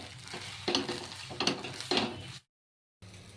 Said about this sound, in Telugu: ఇప్పుడు ఇంకొకసారి మిక్స్ చేసుకోవాలి